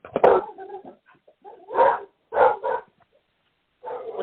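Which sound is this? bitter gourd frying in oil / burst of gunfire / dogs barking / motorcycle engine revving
dogs barking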